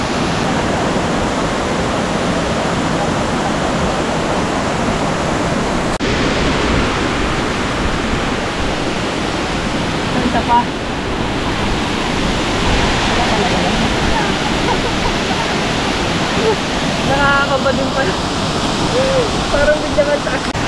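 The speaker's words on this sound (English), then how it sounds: "We're gonna walk across the top of the falls." A waterfall on Siquijor Island in the Philippines roars as a steady, loud, close wash of falling water, unbroken for the whole stretch.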